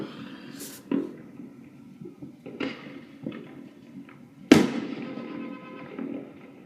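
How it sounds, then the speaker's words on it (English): Fourth of July fireworks in 2016 pop and boom at irregular intervals, several sharp bursts with short rolling tails, one louder blast near the end, heard from a distance against a quiet night background. "Oh, more fireworks. More fireworks."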